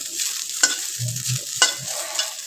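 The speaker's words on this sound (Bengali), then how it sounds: "যে পর্যন্ত ভাজা না হয়ে যাবে সে পর্যন্ত মশলা করে ভেজে নিতে হবে" Garlic, spices and a little rice frying in a pan while being stirred. A soft sizzle runs under two sharp scraping strokes about a second apart and a few low knocks, close by with no voices.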